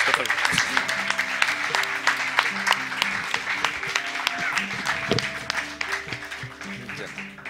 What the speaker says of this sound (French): félicitations Millet, on peut l'applaudir encore.